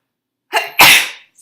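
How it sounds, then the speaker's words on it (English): A woman gives a single sneeze, a short sharp intake followed by a loud burst of breath, close to the microphone in a quiet room. "or I'm going to sneeze."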